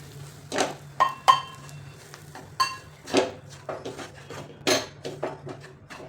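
A spoon mixes a besan and spice filling for Shegaon kachori in a bowl, producing irregular close clinks and scraping knocks against the bowl every half second or so, with no talking.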